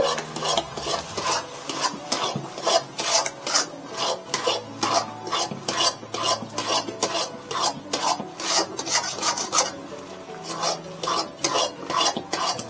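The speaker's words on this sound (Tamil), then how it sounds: "நல்லா விடாமல் கிண்டிகிட்டே இருக்கணும்" Apple halwa made with cornflour, sugar and ghee being stirred steadily in a pan, a repeated rhythmic scraping and rubbing stroke at close range, continuous across the whole span without talk.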